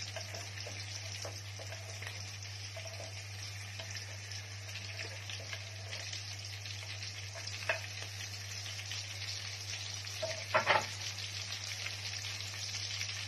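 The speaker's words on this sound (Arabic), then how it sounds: "هنبتدي دلوقتي ننزل بالكبده اهو زي ما احنا شايفين" Liver fries in a pan with a steady, moderate sizzle over a constant low hum, broken by a few faint scrapes and a brief louder clatter near the end, no one speaking.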